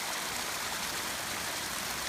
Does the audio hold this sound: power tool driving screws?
no